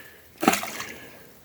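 Reservoir water is stirred up, giving a single soft splash and slosh followed by trickling that fades against quiet outdoor background.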